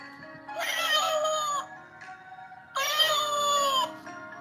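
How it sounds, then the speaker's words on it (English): A cat meow sound button played twice, each a drawn-out, tonal synthetic meow lasting about a second, with a soft background hum between them. "That's the meow button."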